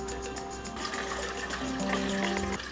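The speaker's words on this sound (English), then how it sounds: "Put the water." Water pours and splashes steadily into a cooking pot for biryani, with a rising tone as it fills, set against a faint background hum.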